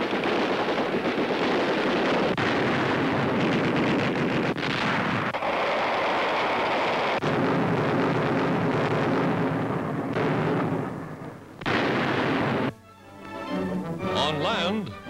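Muffled booms and rumbling blasts of artillery and gunfire during a 1943 wartime landing, heavy and continuous, ring out at a distance on an old, noisy newsreel soundtrack, with a narrator's voice and music partly over them.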